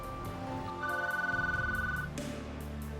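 A telephone rings with an incoming call, a steady electronic ringing tone with pulsing beeps that sits over quiet background sound, no one speaking.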